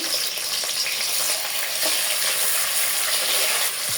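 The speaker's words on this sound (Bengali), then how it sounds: "তেল গরম হয়ে গেছে পেঁয়াজ দিয়ে দেব" Onions fry in hot oil in a pot with a loud, dense, continuous crackling sizzle close by. Occasional stirring scrapes sound under it, with no talking.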